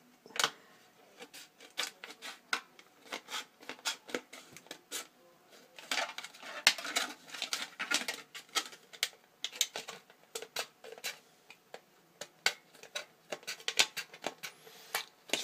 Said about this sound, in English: Fairly easy to cut, styrene is just easy to cut.